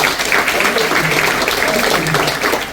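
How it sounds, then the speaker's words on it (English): An audience applauds Dr. Leda Nair and her team after a program. The clapping is steady and fairly loud, mixed with voices and background murmur. "Let us give a big applause for dynamic leader Dr. Leda Nair and the team for a wonderful program."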